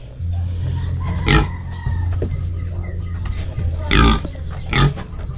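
Several low grunts from a pig sound over a steady farmyard hum, with a few sharper squeal-like bursts mixed in at irregular intervals.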